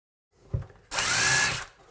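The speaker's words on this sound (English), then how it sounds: "pre-drill this hole just enough so that the screw can catch the melamine" A short burst from a power drill pre-drilling into melamine, preceded by a brief knock, loud and close, with no talking.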